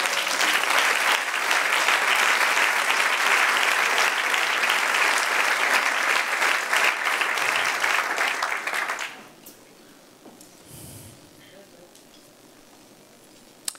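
A church congregation applauds in dense, loud, sustained clapping that fills the room for several seconds, then abruptly dies down to a quiet murmur of room sound.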